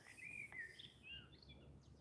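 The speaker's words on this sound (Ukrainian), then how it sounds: "Зяблік якийсь." Chaffinch singing in a spring park, a few thin, high chirping phrases that are faint and somewhat distant over low background rumble, with no talk.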